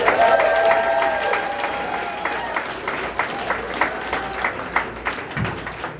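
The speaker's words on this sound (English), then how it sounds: "please make some noise for Josh Rachlis" A stand-up comedy contest crowd breaks into loud, sustained applause with some cheering as a comedian is welcomed to the stage. Dense clapping fills the room and thins slightly toward the end.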